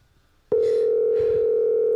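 A telephone call rings out on the line: after a half-second of near silence, a loud steady electronic tone starts abruptly and holds unbroken, with faint background sounds beneath it.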